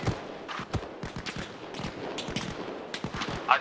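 Rapid bursts of gunfire in ARMA Reforger, a tactical military video game, come as repeated sharp cracks and rattling volleys, mostly mid-distance and fairly steady over a few seconds with no talk.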